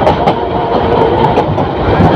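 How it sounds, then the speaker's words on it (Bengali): Titas Commuter train on the Dhaka to Akhaura line entering Amirganj railway station, a loud, steady rumble of rolling carriages with rhythmic clickety-clack of wheels over rail joints, heard up close. "তিতাস কমিউটার ট্রেনটি আমিরগঞ্জ রেল স্টেশনে আসা প্রবেশ করছে।"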